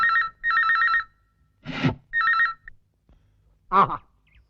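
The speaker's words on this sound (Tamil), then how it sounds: "யாராவது போன் எடுக்க வேண்டியதானே" A telephone bell rings in repeated trilling bursts, loud and close, with short spoken exclamations between the rings.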